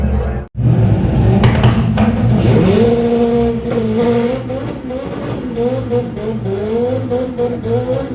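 A BMW drag racing car at Santa Pod accelerates hard down the strip, its engine note climbing through rising revs and gear changes, loud and continuous after a brief dropout near the start.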